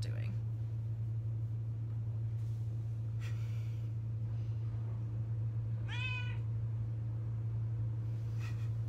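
A pet cat gives a couple of short meows, the clearest one rising and falling mid-clip, over a steady low indoor hum, with faint breathy sounds and snorts around it.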